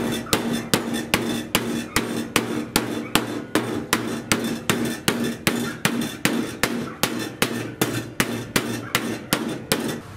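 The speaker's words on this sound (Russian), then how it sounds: "И при помощи киянки начинаю аккуратненько это" A mallet bends sheet metal over a steel angle held by three clamps, striking in a steady, evenly spaced series of sharp, close knocks, about two or three blows per second throughout, with no other sound between them.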